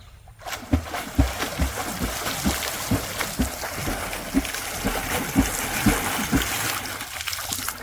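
Rhythmic splashing as legs kick through water, roughly two kicks per second, close and steady, with sloshing between strokes.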